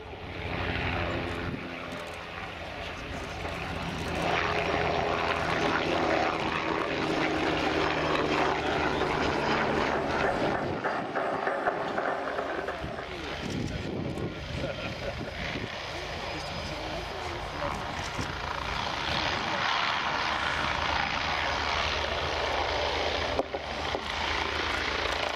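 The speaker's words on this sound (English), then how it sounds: "This is the Messerschmitt Bölkow Blum Bull 105 P1." A German Army MBB Bo 105 P1 helicopter performs a flying display at an airshow, its rotor and turbine sound loud and steady as it passes and manoeuvres, with a commentator speaking over it.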